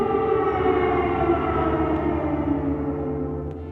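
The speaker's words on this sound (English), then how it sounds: "Like all the citizens, we got used to the air raid sirens." Air raid siren wailing over Kyiv, a steady, sustained multi-tone drone heard from a distance that holds throughout and fades slightly toward the end, with no voices.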